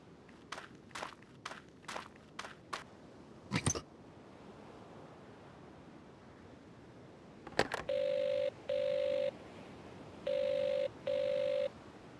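An old telephone in an indoor store setting rings in four steady, loud electronic bursts in two pairs, following a run of footsteps and a couple of sharp knocks.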